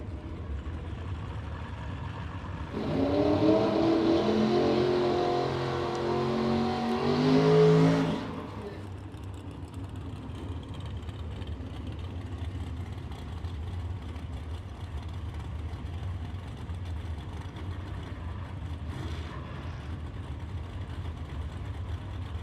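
Drag racing cars at a Super Pro bracket race roar down the strip at a distance, with a loud engine burst building for several seconds before fading. A low rumble and crowd noise continue afterward.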